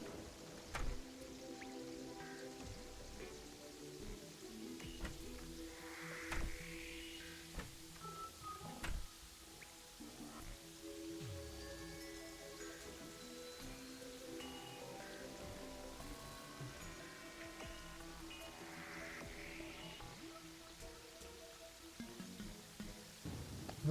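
Steady rainfall in Terraria plays as a soft, continuous patter with a wet, dripping texture, layered under quiet game music and occasional tonal effects, with no voices.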